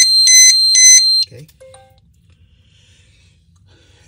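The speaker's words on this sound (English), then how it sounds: "when you, the first time you turn it on, it will actually give you that an alarm test to make sure that it is fully working" XGuard Plus V3 security device running its alarm test on power-up: a loud, close burst of rapid, high, piercing electronic beeps in quick groups, stopping abruptly, then a brief spoken word in a quiet room.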